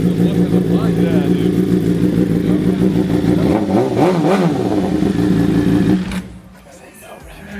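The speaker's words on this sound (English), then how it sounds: "It's amazing how the exhaust can give the bike the character." A motorcycle fitted with an aftermarket exhaust revs close by, its engine swelling into a loud rising roar around the middle before cutting off abruptly near the end.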